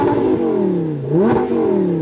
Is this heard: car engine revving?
yes